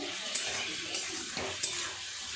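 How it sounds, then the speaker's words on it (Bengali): Vegetables sauté in a pan of mustard curry with bata fish, making a quiet, steady sizzle broken by a few light stirring clicks. "সবজি দেওয়ার পর দু তিন মিনিট কষিয়ে নিয়েছি"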